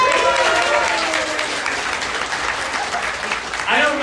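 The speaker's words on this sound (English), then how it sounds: "I don't remember this applause for their wedding." Comedy club audience applauding, a full burst of clapping that swells and holds for a few seconds, with scattered cheers mixed into the crowd noise.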